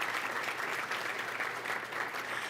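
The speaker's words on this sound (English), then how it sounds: "A round of applause." Audience applause at a State of the City luncheon event, a thick, even roar of many people clapping heard from across a large room, steady throughout without pause.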